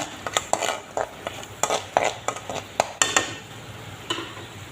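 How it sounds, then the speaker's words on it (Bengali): Onion, garlic and ginger paste frying in hot oil, heard as repeated close scraping stirs of a utensil against the pan over a low sizzle, with no talking. "গরম তেলের মধ্যে আমি পেঁয়াজ বাটা, রসুন বাটা আর আদা বাটা দিয়া এখন আমি ভাজি দিই।"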